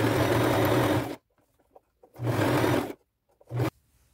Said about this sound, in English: I will do a zigzag stitch all along this 21 inch ruffle